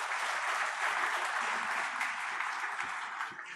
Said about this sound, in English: a big round of applause would be nice.